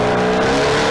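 A Z sports car's engine at the Leyburn Sprints, loud and close, holding a steady droning roar with strong low harmonics through the whole moment.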